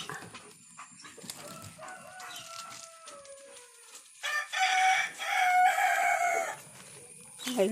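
Chickens cluck and squawk nearby in several uneven bursts, with brief quieter gaps between calls.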